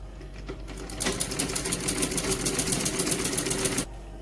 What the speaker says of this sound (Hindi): अब मैं इसे दोनों तरफ सिलाई लगा लूँगी